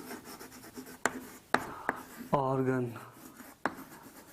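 Chalk or marker tapping and scratching on a board during a botany class: a few sharp, separate strokes spread across the clip, with someone briefly speaking between them.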